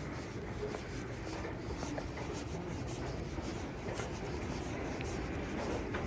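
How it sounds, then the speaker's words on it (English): A vintage escalator runs steadily in a JCPenney at Crossgates Mall, producing a continuous, loud broadband rumble and grinding hum with faint scraping textures, heard alone without voices. "I think, one of the world's loudest escalators."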